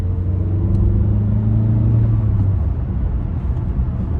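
A 2017 Chevrolet Cruze with a manual gearbox and about 130 horsepower accelerates, its engine producing a loud, steady low rumble with a slowly rising drone that fades into road roar.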